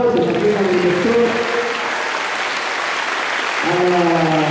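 A crowd applauds the director at an inauguration ceremony with a steady, full wash of clapping, while an amplified voice speaks over it at the start and again at the end.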